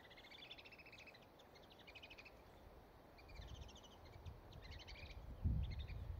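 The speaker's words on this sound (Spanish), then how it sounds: "aquí hay un árbol con un montón de pajaritos, pero chiquitos, pequeños, y hacen un sonido bien increíble" Faint, rapid high-pitched chirps from a flock of tiny birds in a tree, in repeated bursts, with some low rustling and a thump near the end.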